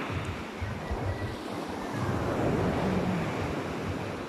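Waves washing onto a seashore by a hillside village, a continuous broad rushing surf that swells slightly toward the middle, mixed with wind buffeting the microphone.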